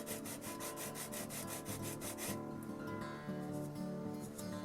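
Plastic parts of a Walthers Union Station model kit rubbed flat on sandpaper, top and bottom surfaces: brisk, evenly spaced back-and-forth sanding strokes, close and steady, then a rougher, less regular scraping with no talking.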